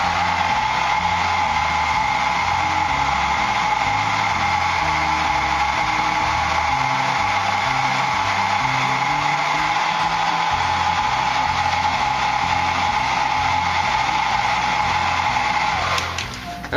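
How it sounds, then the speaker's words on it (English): Hair dryer blowing men's hair styled with mousse for a James Dean pompadour, a loud, steady airy whine and rumble close by, varying a little as it moves, then cut off abruptly at the end. "This is sort of the new switch where I'm spending a lot more time blow drying and basically with the mousse."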